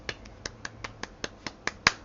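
A soft golf clap of about ten light, evenly spaced claps, quiet and close by, with the last clap a bit sharper.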